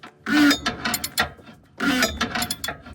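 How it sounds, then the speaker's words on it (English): A ratchet wrench turns the hex-topped fuel filter cap on a 2008 Ford F350 with a 6.4 Powerstroke engine, giving two loud close runs of rapid clicking separated by a brief pause. "just get a ratchet up in there"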